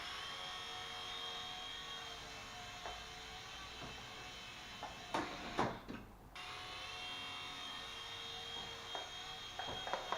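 Small toy helicopter rotor motor spinning steadily with a high whine, tested with its tail rotor lacking power, close and continuous with a few brief bumps and a short dip midway.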